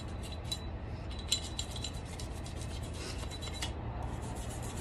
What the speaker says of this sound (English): Just want to give it a nice little scrub down